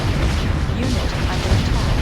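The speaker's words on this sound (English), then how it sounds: "These damn mortars." Mortar shells exploding in a real-time strategy video game, a few dull booms and rumbles close together amid battle noise, with someone talking over them.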